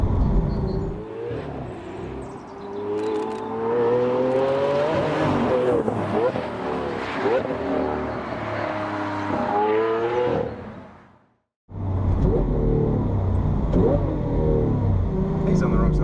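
A 2014 Lamborghini Aventador LP 700-4 V12 revs hard and accelerates, its loud howl climbing through the gears. The roar cuts off briefly near the end and then returns, with voices talking over it.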